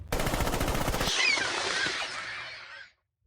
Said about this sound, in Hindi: 10 कदम के अंदर बंदूक तेज और स्टीक है।